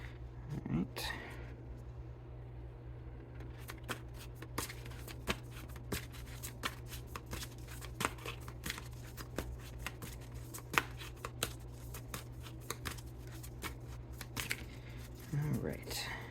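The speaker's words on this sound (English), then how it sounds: "Let's do one more good shuffle." Tarot cards are shuffled in a steady run of soft riffling and snapping bursts, close by, over a low constant hum, with a brief thump near the start and near the end.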